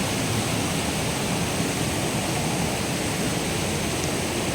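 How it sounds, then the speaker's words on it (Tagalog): Water rushes in a strong current at Mother Falls, a dense, steady broadband roar like a waterfall, continuous and unbroken, with no voices over it. "Ang lakas ng current ng tubig."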